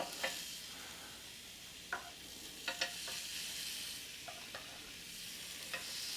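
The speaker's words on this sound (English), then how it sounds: "let's get these bad boys on. Wait for the sizzle." Lamb chops sizzle on a Ninja Foodi Smart XL grill, a steady frying hiss with a few brief crackles and pops spread across it, close and moderately quiet, with no talking.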